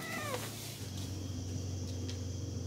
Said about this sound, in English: She's the other tuxedo cat in the house.